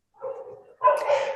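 Dogs bark nearby, a short muffled woof followed by a louder, sharper bark with a whining edge, close and alone.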